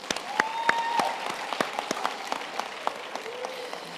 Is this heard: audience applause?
yes